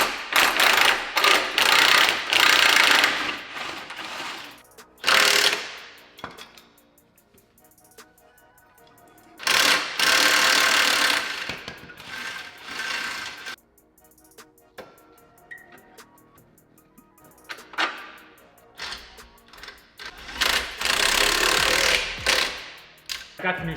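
Loud bursts of an impact wrench and ratcheting tools come and go on a damaged 2015 Duramax pickup as a broken shock absorber is removed and a new one fitted, with quieter clinking between bursts and occasional talk.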